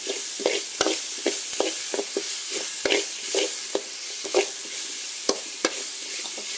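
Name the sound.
stir-frying bitter gourd and onions, adding tomatoes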